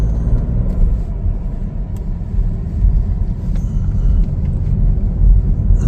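A 2025 Chevrolet Trailblazer AWD LT on a test drive gives a steady, loud low rumble of engine and road noise from inside the cabin, with no talk.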